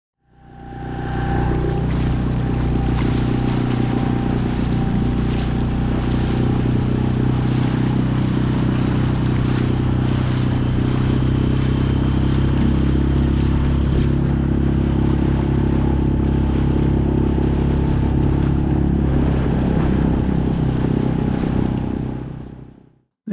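A loud outboard engine on an inflatable kayak boat roars continuously on choppy water in a following sea, with water slapping and wind buffeting throughout; the drone holds steady before cutting off.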